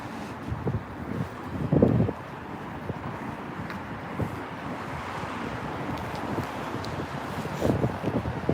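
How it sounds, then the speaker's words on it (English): Strong wind gusts rumble and buffet the microphone on K Street in downtown Washington DC on a freezing January evening, with louder bursts rising over a steady background roar. "it is very, very windy"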